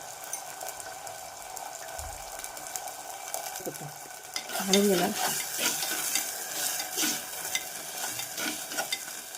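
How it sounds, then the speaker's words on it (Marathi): Potatoes fry in oil with peanuts and green chilli, a steady close sizzle that grows louder midway as stirring and scraping against the pan pick up. "आता बटाटे टाकून घेणार आहे आणि तेही फ्राय करणार"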